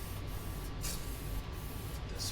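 Spray can laying a coat of paint on a Ford Ranger truggy, a steady faint hiss of aerosol spray with slight flutters, quiet and continuous.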